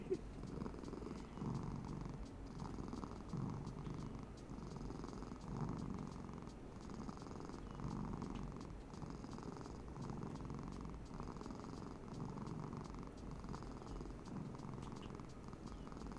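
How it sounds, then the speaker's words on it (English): Bean, a cat, purrs loudly and steadily close to the microphone, a continuous rumbling purr with gentle breathing pulses and no other sound over it. "It's just Bean purring for the remainder."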